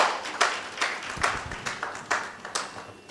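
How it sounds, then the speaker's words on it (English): A crowd claps at the official launch of a chamber in Ghana as a speaker comes up. The clapping is moderately loud and uneven, in scattered bursts. "a round of applause for him as he comes up"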